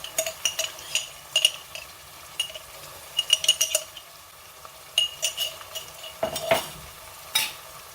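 A spoon stirring Ghana stew in a pot, irregular clinks and scrapes against the metal in uneven bursts, close and fairly quiet with a faint sizzle underneath.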